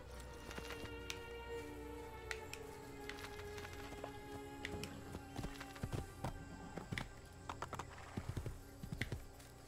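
Horse hooves clip-clop in Assassin's Creed II, a run of irregular hard taps that thickens toward the end, over steady game ambience with no talk.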